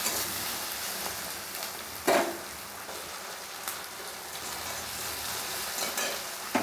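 Okra and green chillies sizzle lightly in a pan, a steady soft hiss of frying with a few sharper crackles and stir sounds scattered throughout, close and alone without talk.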